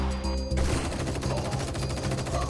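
Gunfire from the VR shooter Crossfire VR crackles in rapid, dense bursts that sound like automatic fire, continuous and loud across the whole stretch with no clear pauses.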